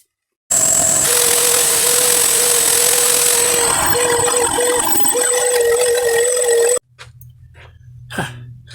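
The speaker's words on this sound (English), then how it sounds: "This Triton handheld oscillating spindle sander has just been a complete lifesaver for me." A Triton handheld oscillating spindle sander whirs loudly and steadily against a routed wooden body, smoothing off glue, for about six seconds before switching off, followed by a few faint knocks.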